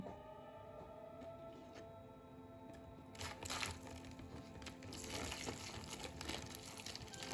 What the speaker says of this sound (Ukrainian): Заливаю одним стаканчиком окропу.